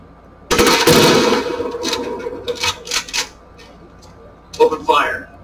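Gunfire in the video game Ghost Recon Wildlands: a loud burst of rapid automatic shots up front, followed by scattered quieter bangs and a final sharp volley, with a voice briefly heard.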